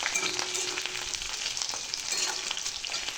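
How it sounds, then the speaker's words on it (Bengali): Green chillies fry in oil with five-spice seeds for a Bengali chilli pickle, giving a continuous bright sizzle with scattered crackles and soft stirring scrapes throughout. "এইবার এর মধ্যে কাঁচা লঙ্কাগুলো দিয়ে দিলাম"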